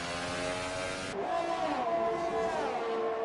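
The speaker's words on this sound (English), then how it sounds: "Sounded like it bounced off of the rev limiter for sure." A Formula One race car engine screams at very high revs and bounces off the rev limiter at a circuit in Canada, a loud, steady whine that drops and wavers as it shifts, with no talk.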